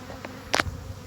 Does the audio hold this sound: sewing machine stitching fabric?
no